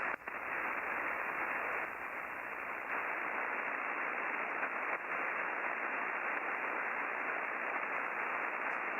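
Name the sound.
radio static on 40-meter band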